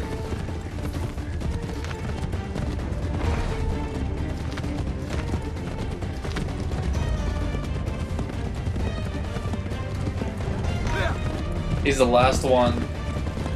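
Hooves clop in a steady galloping rhythm under game action and ambient noise in Assassin's Creed 3 on Xbox 360, with someone talking briefly and a sharp effect near the end.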